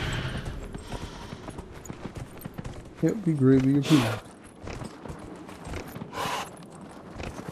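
Horse hooves clip-clopping in the video game Dragon Age Inquisition, a steady soft rhythmic patter under ongoing talk, with a louder sound effect briefly in the middle.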